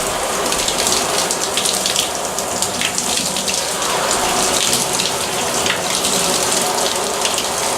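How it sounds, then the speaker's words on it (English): Heavy simulated rain pours onto a Granite Gear Blaze 60 backpack, a loud, continuous close splashing and drumming of water on fabric that holds steady throughout with no break. "So I want to simulate a heavy rain coming down to see how this will perform."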